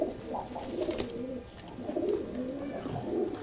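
Pigeons coo in soft, low repeated phrases, close by, with a faint rustle of wings and movement around them.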